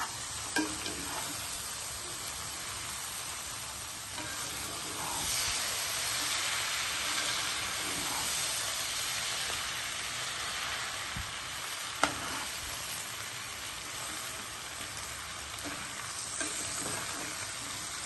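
Prawns, chicken and minced keema frying and being stirred in a pan for mixed biryani, a steady close sizzle with scraping stir strokes throughout and a sharp clank near the middle, no talking.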